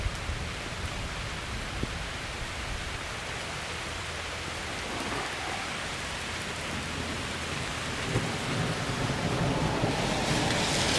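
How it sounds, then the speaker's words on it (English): Heavy rain falls steadily beside Lake of the Isles during a storm on a scooter ride, its dense, even hiss filling the whole clip close by and swelling a little louder toward the end. "Rain is definitely coming down."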